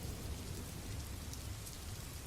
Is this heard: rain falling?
yes